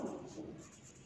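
Pen or pencil scratching across paper as an answer is written during a primary math addition lesson, a soft continuous rustle lasting about a second with no talking.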